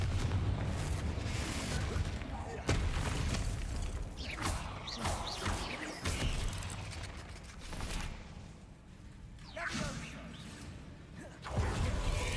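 Spell blast from the Hogwarts Legacy Bombarda charm, a deep booming explosion with rumbling low end, heard in repeated heavy bursts amid game action and mechanical clatter.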